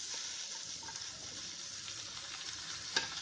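Broccoli and carrots roasting in a little oil in a pan on a gas stove give a steady, soft, even sizzle with one brief clink near the end.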